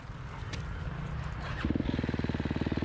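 A dirt bike in a harescramble race approaches, its engine building from a low drone to a loud, close, rapidly pulsing roar by the end.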